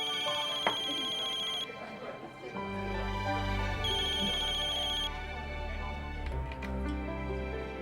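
A phone's electronic ringtone chimes in repeating bursts, clear and near, over a low background hum, with a brief voice and some faint shuffling sounds between the rings.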